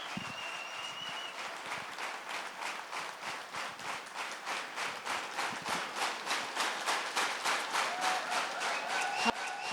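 Applause from a church congregation fills the whole stretch, steady rhythmic hand clapping that builds slightly and stays loud and close throughout, with a faint voice briefly above it.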